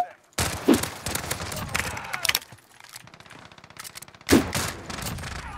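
Akimbo Renetti burst pistols fire in Modern Warfare gameplay, giving rapid bursts of sharp gunshots. A dense volley opens the sequence, a quieter stretch of scattered shots follows, and a final loud burst closes it.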